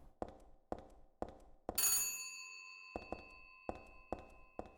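A payphone in the video game Silent Hill 3 gives a series of sharp, evenly spaced metallic clicks. Midway, a bright ringing tone sounds and slowly decays, and then the clicking resumes. The whole sequence is quiet and without speech.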